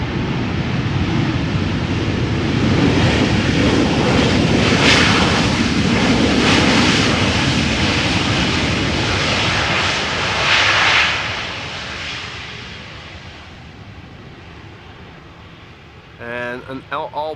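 An El Al airliner landing at Amsterdam Schiphol, a loud sustained engine roar rising to a peak as it passes close overhead, then fading into distant rumble, with a brief voice at the very end.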